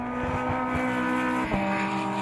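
A GT race car at Phakisa Raceway drops engine revs hard while braking late into a corner, its loud, close engine note sliding down in pitch with a brief shift partway through.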